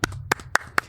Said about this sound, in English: Round of applause for our director,